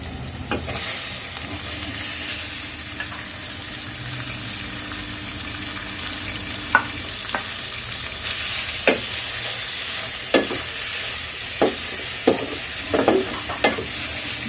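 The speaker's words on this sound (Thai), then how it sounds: "จากนั้นเราก็ใส่เนื้อลงไปดวนก่อนนะคะ" Steady frying sizzle of beef stir-fried with garlic and shallots runs throughout, with scattered sharp clicks and pops growing more frequent toward the end as the meat is stirred in a hot pan.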